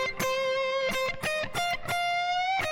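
Electric guitar lead phrase from a solo, with distorted sustained notes and repeated picked attacks in a rhythmic pattern, played loud and close with no talking.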